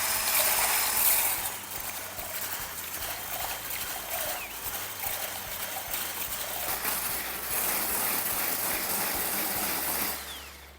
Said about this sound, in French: on monte bien en neige